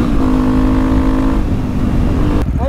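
A KTM supermoto motorcycle engine accelerates with a loud, steady buzzing roar and rising harmonic tone, the pitch climbing before shifting near the end, heard up close from a ride with no talking.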